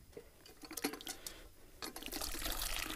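At a mountain cedar camp, hot wash water runs and splashes into a basin, faint at first and then a steadier, louder pour and gurgle toward the end, with no talk.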